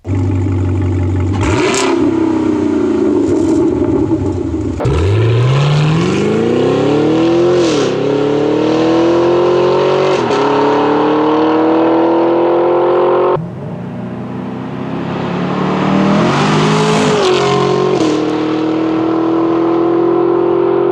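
A 2016 Camaro SS V8 with a Stainless Works catback exhaust revs repeatedly, each rev rising in pitch and falling back, loud and close with a deep burbling rumble between pulls.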